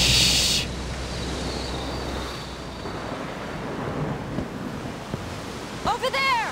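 Stormy weather in the King Kong video game: a steady roar of wind and rain fills the scene, with a sharp burst at the start, and a few chirping calls rise near the end.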